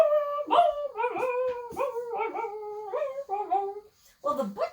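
A puppy dog howls in a long sing-song run of rising and falling wavering notes, close and clear, pausing briefly before one last howl.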